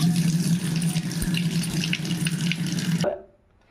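Toor dal being washed under a running kitchen tap, water splashing and rattling loudly and steadily before the flow stops abruptly near the end, leaving quiet.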